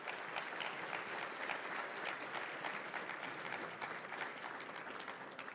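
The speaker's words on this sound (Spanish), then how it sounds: "¿Por qué le damos un aplauso a aquellos que han servido en las Fuerzas Armadas, por favor?" A church congregation applauds at a Spanish-language service, honoring those who served in the armed forces. The clapping is dense and steady throughout, a full room of hands at even loudness with no talk over it.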